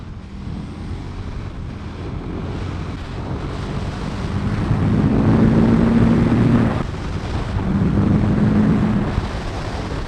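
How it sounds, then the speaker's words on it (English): A V-twin motorcycle ridden fast. Heavy wind rush roars over a droning engine note that swells louder for a few seconds, dips, then rises again. "It's so easy to go mentally fast on this bike. I don't understand why people don't like V-twins more."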